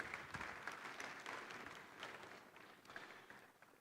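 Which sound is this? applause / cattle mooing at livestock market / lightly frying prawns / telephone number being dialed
applause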